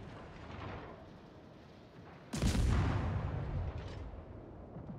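Naval artillery from a warship in World of Warships fires at the Emden with one heavy booming salvo that hits suddenly and rolls on for several seconds, following a quieter stretch of ocean and engine rumble.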